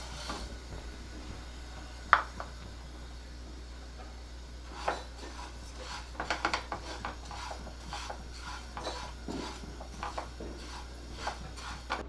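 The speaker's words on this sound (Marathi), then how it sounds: "सगळ्यात आधी आपण बडीशेप आहे ती भाजून घेऊया." Fennel seeds being dry roasted in a pan give off quiet, intermittent scraping and rasping as they are stirred, with one sharper clink and a rhythmic scuffing that picks up toward the end.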